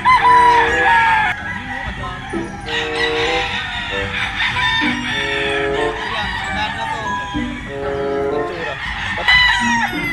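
Several gamefowl roosters crow one after another at a busy game farm, loud and close, with bursts of clucking in between and someone talking over them the whole time.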